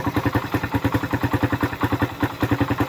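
A noisy Suzuki Raider motorcycle engine runs rough after oil starvation, clattering with a steady, rapid pulsing rhythm, loud and close, with no talk over it.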